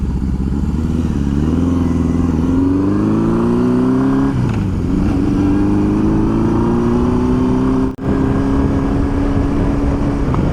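A barn-find Honda CB750 motorcycle runs close by, first at a steady idle, then revving upward with rising and falling engine pitch, loud throughout with no talking.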